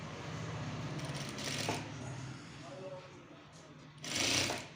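A sewing machine stitches the sleeve onto a men's kameez in short runs, a low rhythmic whirring that starts and stops, close by, with a voice heard at times.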